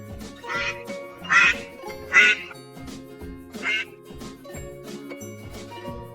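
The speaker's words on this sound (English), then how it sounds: "D is for duck." Cartoon-style duck quacks, four or five nasal bursts in an irregular rhythm, ring over light tinkling background music from a children's alphabet lesson.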